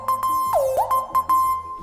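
A synthesizer-like tone made from a ukulele note holds a steady buzzing pitch, with a swooping bend dipping down and back up midway and rhythmic pulses ticking through, loud and alone.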